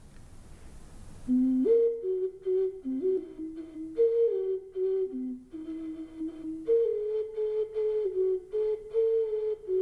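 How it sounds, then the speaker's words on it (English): A West Mexican-style zoomorphic pentatonic clay globular flute plays a slow, breathy melody of wavering, hollow tones, stepping between a few pitches in a quiet room with no talking. "This is a Zmorphic pentatonic globular flute"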